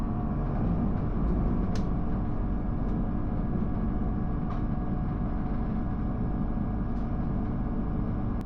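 Steady low rumble of an AVANT high-speed train leaving Madrid Atocha station for Toledo, a constant broadband roar with occasional faint clicks, heard from inside the carriage.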